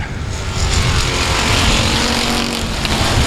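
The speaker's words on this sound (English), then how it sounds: "let's see if we can get 1 lap complete with all these cars on the track" Loud, continuous roar of a pack of race cars circling a speedway track, engines blending into a dense, steady wash of sound that swells slightly as the field passes close by.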